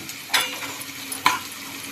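Ginger garlic paste frying in a pan with chopped onions and green chillies, a soft sizzle broken by two sharp stirring scrapes.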